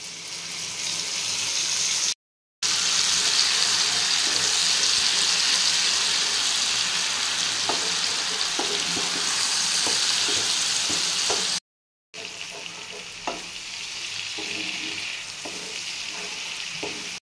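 Spice paste frying with fried potatoes in a pan hisses and sizzles steadily and fairly loudly, with light clicks of stirring and two brief gaps, and no one speaking.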